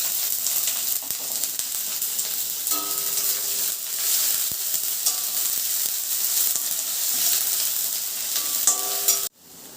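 Chopped onion sizzling and frying in a pan with garlic, stirred steadily throughout, a continuous close hiss with light scraping that stops abruptly near the end.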